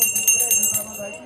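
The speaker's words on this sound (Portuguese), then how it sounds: "Esse é o sininho do Papai Noel." Santa Claus's little hand bell rings inside Santa's house at a Christmas event in Tramandaí: a brief, rapid, bright jingling close by, with faint crowd noise underneath.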